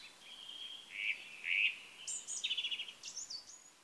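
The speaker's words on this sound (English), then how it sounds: "Only birds singing their songs." Small birds sing in a quiet snowy winter forest: a few thin, high chirps and trills, including one rapid pulsing series, ring out clearly but softly against near silence.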